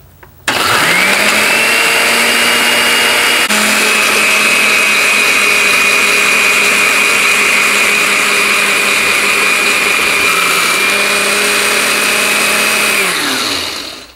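Kitchen blender grinding dried chili peppers into powder, a loud steady whirring motor that spins up, holds a constant high whine for over twelve seconds, then winds down, with no talking.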